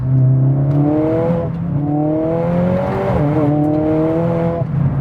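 Tuned Mercedes-AMG A45 S accelerating hard through the gears, a loud close engine note climbing in pitch, dropping at each quick shift, then climbing again.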